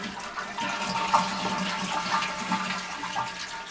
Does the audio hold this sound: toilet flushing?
yes